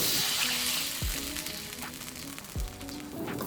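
Garlic and dried red chilies stir-fry in a hot wok with a loud, continuous sizzle, broken twice by low thumps as the ingredients are tossed.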